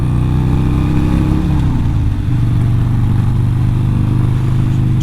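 Harley-Davidson Sportster 48 motorcycle rumbling steadily while being ridden, a continuous loud low engine drone with wind noise that holds without a break, no voices.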